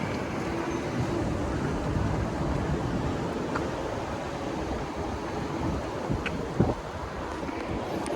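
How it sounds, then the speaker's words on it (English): Strong wind buffets the microphone outdoors in a steady, loud, rumbling rush that lasts throughout, with a few brief bumps and no voices. "but it is very windy"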